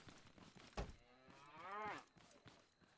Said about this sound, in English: That cow was just getting beaten up.